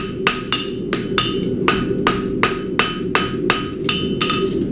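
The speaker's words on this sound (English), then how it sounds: "so just give it a little gentle tap back together again." A hammer taps a forged heart bar horseshoe back into shape on an anvil, about a dozen sharp ringing metallic strikes in a steady rhythm, loud and close with no voices.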